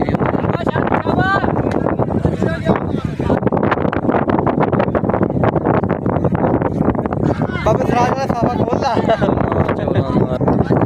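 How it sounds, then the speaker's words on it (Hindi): Strong wind gusts across a village cricket ground, roaring and buffeting the microphone in a constant rumble beneath someone commentator talking continuously throughout. "बहुत ज़्यादा हवा चल रही है"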